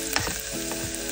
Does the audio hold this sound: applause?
no